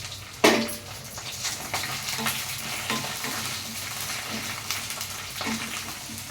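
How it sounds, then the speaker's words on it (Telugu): Long-cut okra pieces fry with tempering spices in a pan, a constant close sizzle broken by an opening clink and occasional spatula stirs and scrapes. "ఇప్పుడు వేగుతున్నాయి కదా"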